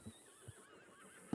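A horse in a ranch role-play video game gives a short neigh, soft and brief, with faint hoof clops.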